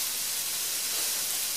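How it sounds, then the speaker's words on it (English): Seasoned, oiled cut vegetables sizzle in a single layer on a 450-degree pan, a steady broadband hiss that holds evenly throughout the short stretch with no voices. "I'm going to put my cut up and seasoned and oiled vegetables on here at sizzle."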